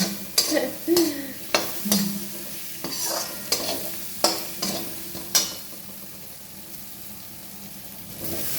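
A slotted frying spoon scrapes through catla fish curry with potatoes in a sizzling pan. About nine close, rhythmic strokes are followed by a quieter simmer.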